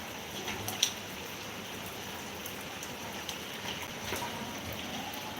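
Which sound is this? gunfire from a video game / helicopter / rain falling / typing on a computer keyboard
rain falling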